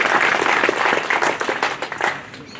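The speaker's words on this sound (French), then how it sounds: "ça s'applaudit." An audience at a Croatian national day reception bursts into dense, loud applause that rolls on steadily and then begins to thin out.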